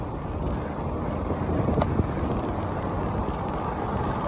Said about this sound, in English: It's pretty windy today. I hope the microphone holds up.